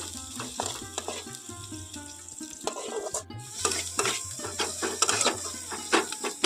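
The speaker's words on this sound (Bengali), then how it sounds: "কুচনো পেঁয়াজ আর আদাটা খুব ভালোভাবে তেলের মধ্যে ভেজে নেবো" Oil sizzles steadily as chopped onion and ginger fry while a utensil scrapes and stirs in the pan, giving repeated clicks and rattles over the frying noise.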